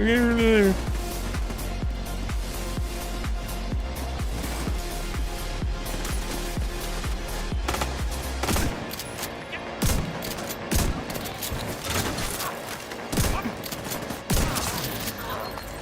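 Gunfire from enemies in The Division 2 shooter, in rapid cracking bursts that grow dense and loud in the second half, mixed with game music and someone talking over it.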